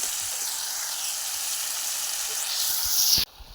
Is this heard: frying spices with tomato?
yes